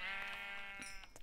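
A single drawn-out sheep bleat from the game Tado's Dream II, loud and close with a steady tremulous tone, followed by a few soft clicks and game effects.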